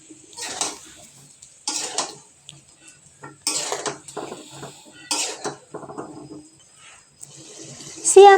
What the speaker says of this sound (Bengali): সবজিগুলো মশলার সাথে ভালো করে নাড়াচাড়া করে নিয়ে ঢেকে কষিয়ে নিতে হবে